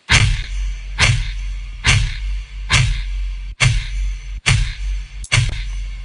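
Finger flicks processed with delay and reverb, seven sharp percussive hits spaced about a second apart, each trailing off in a dark, resonating echo tail, loud and close with nothing else underneath.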